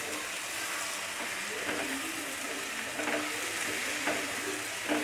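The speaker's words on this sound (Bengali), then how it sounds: "মশলাগুলো এবার কষিয়ে নেব।" Spices being stir-fried in a pan for a Bengali egg curry give a soft, continuous sizzle with occasional faint stirring scrapes, steady and fairly quiet, with no voices.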